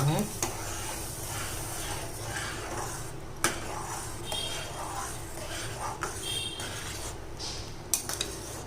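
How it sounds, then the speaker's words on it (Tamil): A spoon stirs and scrapes through a thick mixture of wheat semolina in boiling water in a pot, with occasional clinks against the metal over a steady bubbling, simmering background. "இப்போ இந்த கோதுமை ரவையை கொட்டி கிண்டிக்கலாம்."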